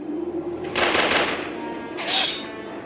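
Gunfire in the Bravely Second: End Layer video game, two loud, harsh bursts of shots about a second apart over faint game background sound.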